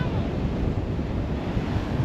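Atlantic ocean waves break on a cold beach with a continuous roar of surf and heavy wind buffeting the microphone. No voices are heard.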